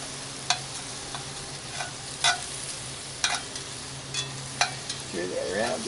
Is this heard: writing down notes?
no